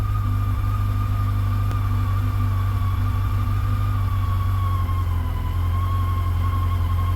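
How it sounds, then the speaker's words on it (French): A Yamaha FJR 1300 motorcycle engine idles with a steady, droning hum close by, its low rumble continuous with a faint whining tone; the idle speed sags slightly toward the end. "vous l'avez entendu. elle a pris une deuxième barre et le régime de ralenti, il a chuté"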